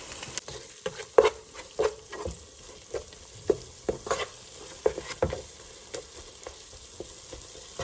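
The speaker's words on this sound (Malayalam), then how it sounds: "ഇത് നല്ലപോലെ ഒന്ന് ഇട്ടതിന് ശേഷം ഇതെല്ലാം കൂടി ഒന്ന് മിക്സ് ചെയ്യുക" A spoon scraping and stirring a thick masala mixture for paneer biryani in a pan, irregular close scrapes and knocks over a soft background sizzle, with no talking.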